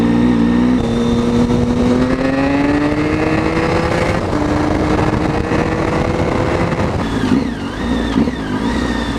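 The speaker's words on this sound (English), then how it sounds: "Hope you've enjoyed the exhaust sound." A Triumph Street Triple motorcycle with an aftermarket SP Engineering exhaust revs loudly and close, pitch climbing smoothly, then blips sharply up and down near the end with a throaty exhaust growl.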